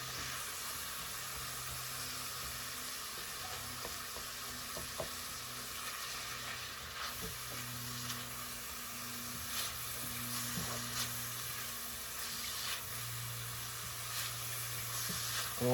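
Maple venison goulash sizzles and bubbles steadily in a pot, a soft continuous frying hiss with faint stirring clinks, fairly quiet and with no one talking.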